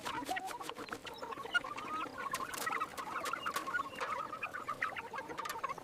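Chickens cluck in a farmyard, with a steady stream of overlapping clucks and clicks at moderate distance and no voices.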